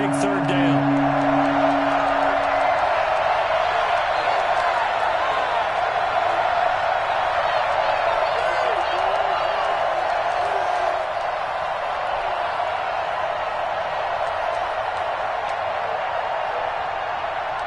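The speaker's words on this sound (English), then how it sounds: "The crowd getting into it as we come up on a big 3rd down." A stadium crowd at a Buffalo Bills American football game makes a steady, loud roar that swells ahead of a third down, with a commentator speaking over it.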